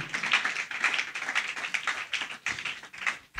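Quick, uneven hand claps and taps from a small audience at a gospel talent casting ceremony, a steady patter of modest applause filling the moment without cheering.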